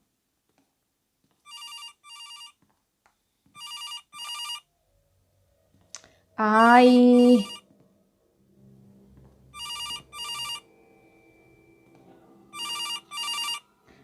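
Telephone in the horror video game Case Animatronics rings in repeated electronic double bursts, clear and fairly loud; a woman briefly exclaims and a harsh rising sting interrupts midway.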